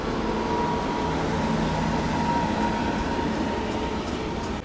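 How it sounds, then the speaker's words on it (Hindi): Bihar Sampark Kranti Express, a New Delhi–Darbhanga train, rumbling past close by as a steady, loud, continuous roar of wheels and carriages with a faint tonal hum, no speech. "यहाँ हमारी मुलाकात हो रही है न्यू दिल्ली दरभंगा बिहार संपर्क क्रांति एक्सप्रेस से।"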